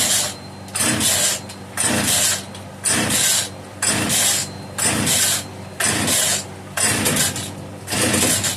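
An Italian-made Castor 330 Antivib (Alpina) chainsaw is pull-started again and again, each rhythmic ratcheting pull followed by a short sputter as it tries to fire, about eight pulls in a steady cycle.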